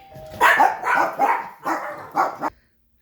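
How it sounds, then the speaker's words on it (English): Several dogs bark excitedly after a doorbell rings, a run of five loud, close bursts over about two seconds before falling silent. "that's why the dogs went crazy when the doorbell rang"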